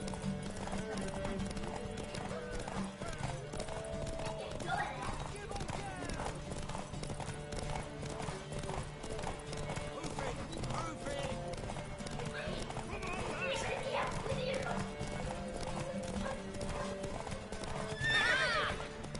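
Horse hooves clop steadily in The Witcher video game, with neighing and whinnying rising near the end, under quiet character dialogue.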